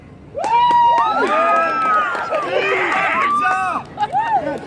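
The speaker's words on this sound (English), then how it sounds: "round of applause" Outdoor street-show audience in Balboa Park cheering, shouting and clapping together, a loud crowd of many overlapping voices with whoops rising and falling.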